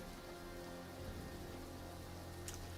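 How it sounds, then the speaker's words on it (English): Steady rain-sounds track patters softly in the background, a faint, continuous hiss of rain on a surface with no other sounds. "sorry, my rain sounds might be a bit high"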